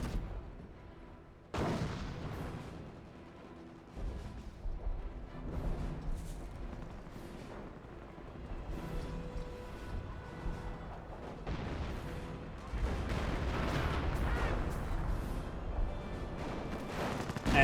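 Artillery fire from 25-pounder guns in a Company of Heroes match, a sustained barrage of repeated booms and crackling blasts, some near and loud, others distant, with no talk over it.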